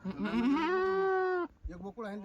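A Kathiawadi goat bleats loudly and close by in one long wavering call, followed by a couple of shorter calls.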